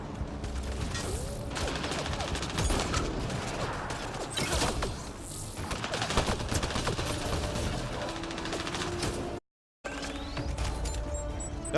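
Sustained automatic gunfire from a firefight in the video game Mass Effect Andromeda, dense rapid bursts and clatter running almost continuously, cut by a brief silent gap near the end.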